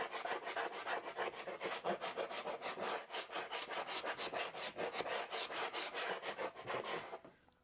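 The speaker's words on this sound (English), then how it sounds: "So the wide scraper takes off the bulk of the mess here." A wide scraper works old adhesive off a vintage steamer trunk in quick rhythmic strokes, a fast run of dry rasping scrapes at close range, heard alone.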